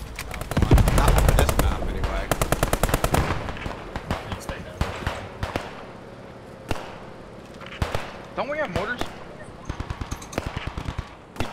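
Bursts of automatic machine gun fire ring out in a World War II shooter video game, a rapid loud rattle followed by scattered single shots and thuds, with players talking over the action.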